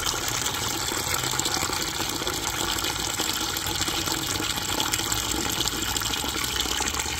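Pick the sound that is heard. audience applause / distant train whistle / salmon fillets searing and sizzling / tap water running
tap water running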